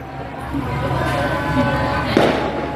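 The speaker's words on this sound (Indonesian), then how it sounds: "biarkan ada mercon ini" Firecrackers pop and crackle amid a noisy outdoor crowd, with one sharper burst near the end over a steady background din and some voices.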